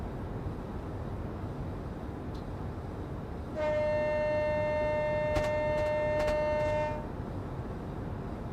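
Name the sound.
train running over the rail lines, heard from inside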